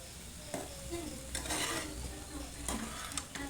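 Pumpkin fries with nigella seeds in a pan over low heat while a utensil stirs it, giving a soft sizzle punctuated by several scraping, clinking stirs.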